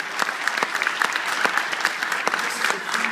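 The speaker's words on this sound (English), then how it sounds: "Would y'all clap for him?" Church congregation clapping for someone just baptized, a dense, lively burst of hand claps with sharper individual claps popping out, close and moderately loud.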